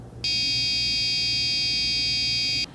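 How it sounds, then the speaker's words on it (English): A steady electronic buzzer tone from a real-time timer application sounds loud and unbroken for about two and a half seconds, starting and stopping abruptly. "the tone is quite different from the first tone we heard"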